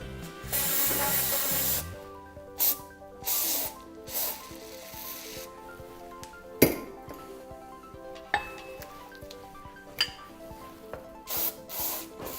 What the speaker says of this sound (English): Gonna go ahead, take some brake clean.